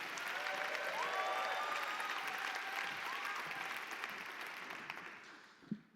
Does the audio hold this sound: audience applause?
yes